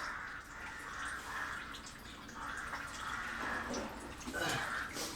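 Coolant trickles steadily out of a dropped radiator on a Renault Megane 2 RS with an F4RT engine, a faint continuous dribble and drip, quiet and close, with occasional soft knocks.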